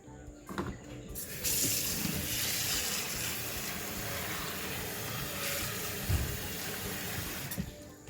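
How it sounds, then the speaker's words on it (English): Water pours steadily into a cooking pot while making Samoan koko esi, a continuous splashing rush lasting several seconds after a couple of soft clunks, with brief knocks near the end. "And then add some water."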